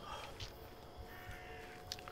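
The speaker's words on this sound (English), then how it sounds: "Crows again?" Crows caw in the Sign of Silence video game, a few faint, scattered calls over a steady, noisy background ambience.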